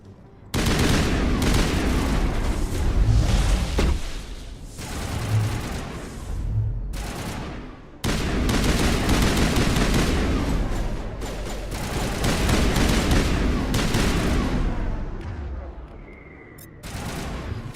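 Heavy gunfire in the Mass Effect game, Legendary Edition, with a big shotgun among the weapons, blasting almost continuously in loud dense bursts with brief pauses between volleys.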